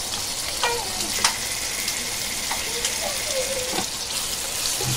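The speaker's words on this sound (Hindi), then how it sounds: "अभी ये हम लहसुन को भूनेंगे इसके अंदर" Garlic sizzling in oil in a pan on the stove while being stirred, a steady crackling fry broken by a few scrapes and knocks of a spoon, heard close with no speech over it.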